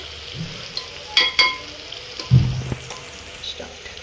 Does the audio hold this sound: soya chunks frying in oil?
yes